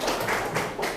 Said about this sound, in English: Applause for your friend